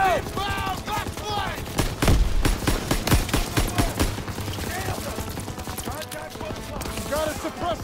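Covering gunfire at a machine gun nest in a war video game: rapid, sharp bursts of rifle and machine gun shots crackle in a steady rattle, with shouted voices over the shooting.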